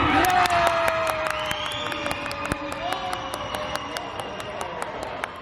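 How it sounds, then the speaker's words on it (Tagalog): A crowd cheering wildly at a Filipino Canadian basketball tournament in a gym, loud sustained shouting and whooping with sharp repeated squeaks and claps throughout. "Crowd is very wild."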